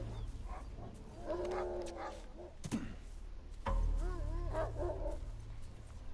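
A dog barks repeatedly in The Last of Us, the yelps coming in bursts over a low, steady game rumble with a louder surge midway.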